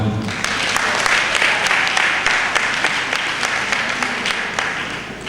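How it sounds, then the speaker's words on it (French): A crowd of women at a PRD party political gathering in Benin applauds warmly for president Patrice Talon, a thick, sustained wash of clapping with a few sharper claps standing out. "vous devez applaudir le président Patrice Talon"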